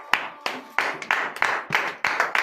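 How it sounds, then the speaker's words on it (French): A congregation at a morning prayer service in Benin claps in uneven bursts, a series of sharp, fairly close applause swells with the rhythm of many hands, no voices standing out. "Veuillez vous lever sur vos pieds et donner de vives acclamations à notre Seigneur Jésus."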